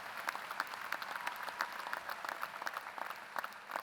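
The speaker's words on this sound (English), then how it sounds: "give a thundering round of applause" Sustained applause from a graduation ceremony audience, a dense and even patter of many hands clapping at a moderate distance, continuing without a break.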